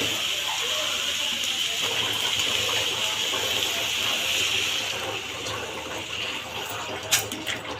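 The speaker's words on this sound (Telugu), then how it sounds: "సరిపడా నేను వాటర్ పోసాను." Water pouring in a steady gushing stream into a pot of chicken curry, loud and continuous before easing off near the end, with a brief clink.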